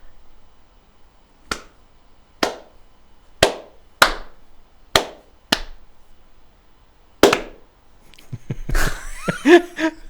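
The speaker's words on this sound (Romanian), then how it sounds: "Pune niște aplauze din alea, dar să fie cringe" Sparse, deliberately awkward applause: about seven single sharp claps spaced roughly a second apart in a quiet room, followed by a burst of laughter and voices.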